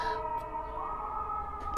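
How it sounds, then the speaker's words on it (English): A siren wails steadily with a sustained, sliding tone that holds at a moderate level throughout the short stretch, with no voices. "So, hear those sirens, Cancer?"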